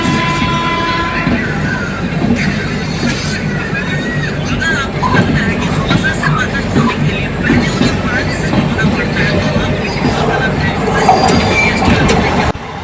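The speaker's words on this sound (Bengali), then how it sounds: "পাস করছে 12859 গীতাঞ্জলি এক্সপ্রেস, যেটা সিএসটিএম থেকে ছেড়ে বেরিয়ে এসেছে সকাল" The 12859 Gitanjali Express from CSTM passing close by on Indian railway tracks, a loud continuous rumble and clatter of wheels with a horn blast and some squeal, while someone talks over it.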